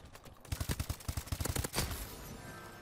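Rapid automatic gunfire in Call of Duty: Advanced Warfare crackles in a quick burst of sharp repeated shots, followed by a few scattered reports and a fading tail; fairly quiet overall.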